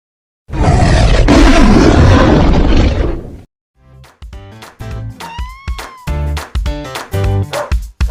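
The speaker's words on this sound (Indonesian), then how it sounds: "Singa." A lion roars loudly and up close in one long, rough, sustained burst, then a stretch of rhythmic music with clapping beats and a sliding tone follows.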